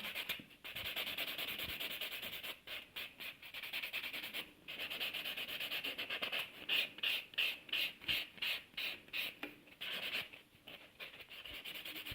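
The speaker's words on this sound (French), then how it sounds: "Ensuite, On passe un petit coup de polissoir." A nail buffer rubs briskly back and forth across fingernails, close-up rhythmic scratchy strokes that pause briefly and then speed into quick regular passes, with no talking.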